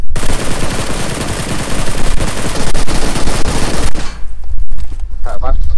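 Loud rapid automatic gunfire in the mobile shooter PUBG, dense bursts of shots rattling close for several seconds before breaking into a few scattered shots, with players talking over it.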